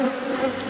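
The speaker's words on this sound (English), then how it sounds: "I don't want to be crushing these bees" A steady, close drone of honey bees buzzing in a nuc box fills the short moment, even and unbroken.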